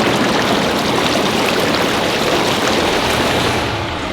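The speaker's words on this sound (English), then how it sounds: "you can see the jets in the spa turn on" Jets of a Saluspa Laguna portable inflatable spa switch on, giving a loud, steady rush of churning water and bubbling air that continues unbroken for several seconds before easing slightly.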